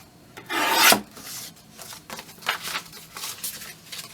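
Paper being trimmed from the bottom of a handmade journal piece: one loud rasping cut of about half a second, followed by fainter scattered scraping and rustling strokes close by.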